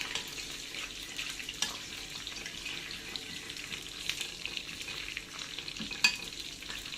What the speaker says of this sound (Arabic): خلاص سخنت السمنه، هحط فيها نص التومه اللي احنا شلناها